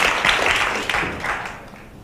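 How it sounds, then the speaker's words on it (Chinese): An audience applauds at a political and economic outlook forum in a hall, a full burst of clapping that gradually fades over about two seconds, with a voice faintly underneath. "那掌声不要停啊"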